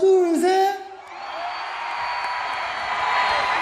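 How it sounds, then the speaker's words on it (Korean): The crowd at the back of an outdoor Daegu song festival concert cheers on cue, a loud sustained roar of shouts and whoops that rises right after a performer's brief call and holds steady. "자 우리 뒤에 분들만 함성 한번 들어볼게요"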